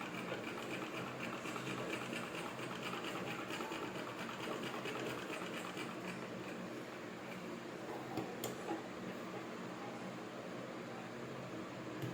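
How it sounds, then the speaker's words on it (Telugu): A sewing machine runs steadily, stitching a folded side panel of cloth for a frock bodice. Its whirring stays quiet and continuous and carries no voices. "ఇప్పుడు నేను ఈ సైడ్ క్లాత్ని ఫోల్డ్ చేసి కుట్టుకుంటాను."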